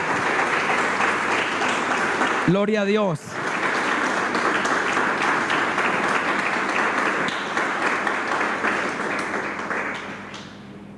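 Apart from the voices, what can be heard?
congregation applause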